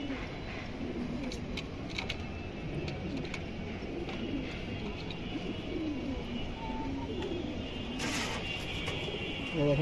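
Female pigeons of fancy breeds such as Silver, Jabra and Makhra coo steadily at close range, their low, murmuring calls rolling continuously beneath a constant wash of background noise for the whole stretch.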